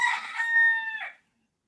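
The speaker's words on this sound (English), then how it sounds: "Like in the morning, they start crowing and they'll be right outside our bedroom window" A rooster crows right outside an open window, giving one clear, fairly close cock-a-doodle-doo that ends abruptly in silence.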